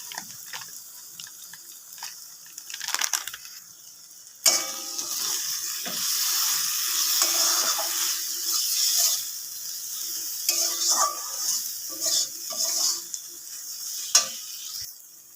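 Spice paste with turmeric and chili powder sizzling loudly in hot oil for a small-fish curry, with stirring scrapes and a brief tap-water splash early on, no voices.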